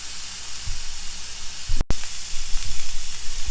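Loin pork chops searing in a hot pan, a steady loud sizzle and hiss with small crackling pops and a brief break midway as they are moved.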